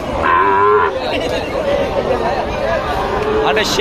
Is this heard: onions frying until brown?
no